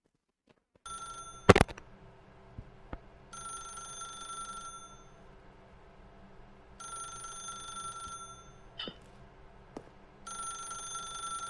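A telephone in The Stanley Parable video game rings in repeated bursts with pauses between them, clear and close, with a sharp click near the start.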